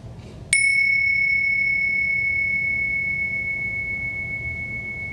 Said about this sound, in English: I'll just ring some bells